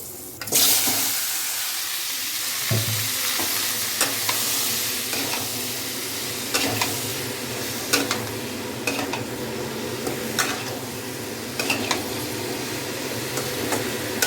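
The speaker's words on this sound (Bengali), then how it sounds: "এই যে দেখো কালো জিরে ফোড়ন দিচ্ছে" Nigella seeds spitting in hot oil in a home kitchen as a base for pumpkin and potato curry, a continuous close sizzle with repeated crackles and scattered stirring clinks throughout.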